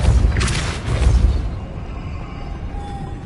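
Depulso spell cast in Hogwarts Legacy, a loud booming blast with a whooshing burst that fades into a rumbling tail, no talking.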